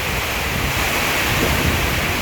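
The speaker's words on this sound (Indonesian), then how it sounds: "mungkin suara anginnya juga suara rintik hujannya nih yang jatuh ke atas atap seng ini nih" Heavy rain and wind beating steadily on a zinc roof during a downpour, a dense, loud, unbroken wash of hiss and roar with no voices.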